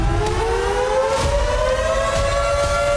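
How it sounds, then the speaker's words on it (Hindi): Air raid sirens wail over Kyiv in a steady, loud, slowly rising tone with overlapping layers, and faint low rumbles and thuds sit beneath it. "कीव समेत कई शहरों में लगातार सायरन बजते रहे"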